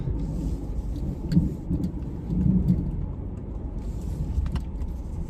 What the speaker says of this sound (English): So we're getting some big hail here